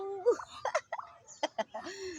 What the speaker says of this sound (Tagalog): Ang daming pato dito.